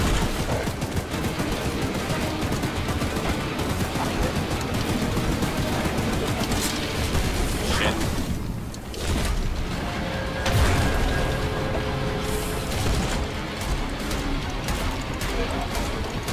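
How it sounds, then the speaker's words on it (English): Machine gun fire in the horror game Choo-Choo Charles, long sustained bursts of loud, rattling shots with booming impacts, briefly dropping off near the eighth second before resuming. "Machine gun."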